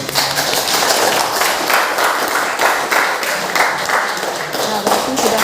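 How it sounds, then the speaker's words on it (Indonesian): A classroom audience claps for a student group that just finished presenting, a dense, steady round of applause lasting several seconds with no voices above it. "Beri aplaus."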